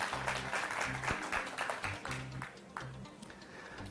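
Studio audience applauding as a contestant is welcomed onto the stage of a televised singing competition, a dense steady round of clapping with a few sharper claps, fading slightly toward the end.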